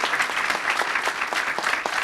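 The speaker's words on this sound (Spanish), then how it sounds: "Cálido el aplauso" Warm audience applause at the close of a panel on investigative journalism against corruption, steady many-handed clapping in a hall with rhythmic bursts, sustained at an even level with no talk over it.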